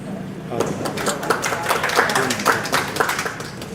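An audience at a Hindi-Urdu poetry recital claps in uneven bursts of sharp hand claps. A voice talks over the applause.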